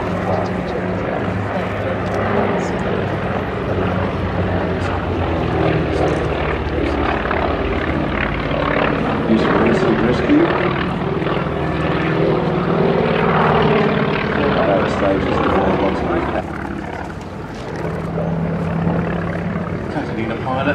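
A Catalina flying boat flies at the Duxford Flying Legends air show in 2019, its piston propeller engines droning loud and continuous, the roar rising and falling slightly as it passes, while an announcer talks over it.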